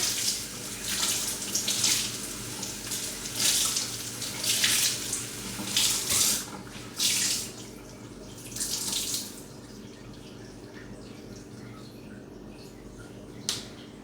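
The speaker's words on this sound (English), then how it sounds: "I will just do it in my sink. Be right back. I'm gonna just wet my skein of yarn." Tap water runs into a sink to wet a skein of yarn, splashing and gurgling in uneven bursts with small clinks, then quieting to a faint drip near the end.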